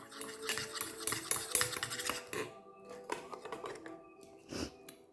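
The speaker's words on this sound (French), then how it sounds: "l'hydrolat de rose de Damas et l'eau. Voilà, donc on va mélanger." Damask rose hydrosol and water are stirred together in a container, giving quiet, close clinking and scraping strokes in an irregular rhythm, with a short pause midway before a few more taps.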